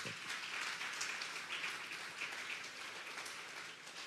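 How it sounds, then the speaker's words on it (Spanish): A church congregation at a Sunday service applauds steadily, a dense wash of many hands clapping at even volume throughout, somewhat distant and without speech. "Dale un fuerte aplauso pues al Señor."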